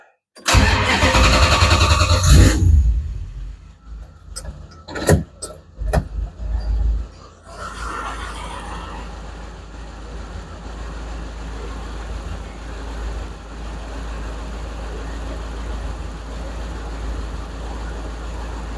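A car engine cranks and catches with a loud burst, followed by a few sharp clicks and clatters, then settles into a low, steady idle that drones on for the rest of the stretch.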